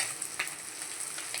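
Fish deep frying in a wok of hot oil: a steady, close, bubbling sizzle with a few sharper crackling bursts, heard alone without any voices.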